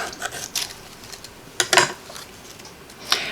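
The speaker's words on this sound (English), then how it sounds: "I'm going to use my spatula to raise this up" A spatula lifting cut paper pieces out of a cutting die on a die-cutting machine, heard as a few short, close scraping and clicking bursts over near silence.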